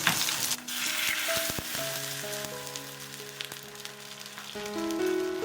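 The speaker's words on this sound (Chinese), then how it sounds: "小洋葱、蒜头、香叶还有八角、香菜头、陈皮一起给它炒香" Ginger, shallots, garlic, bay leaf, star anise, coriander roots and tangerine peel stir-fry in hot oil, a bright close crackle with stirring knocks and a few faint tonal rings behind.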